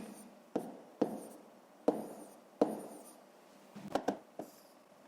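A pen writes numbers by hand on paper in short separate bursts of scratching, close and quiet, with small pauses between digits and no talk.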